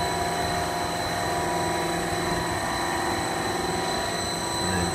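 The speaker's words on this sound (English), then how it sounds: "Jet turbine engine for propulsion." A jet turbine engine used for propulsion runs at a steady, loud roar with a high constant whine and a rumbling low end, continuous and unbroken, with no one talking.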